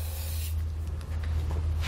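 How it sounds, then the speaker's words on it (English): Steady close hiss of an aerosol can spraying general purpose lubricant continuously for about two seconds onto a trailer hitch receiver, with a low background hum. "take our general purpose lubricant right here and give those a good spray"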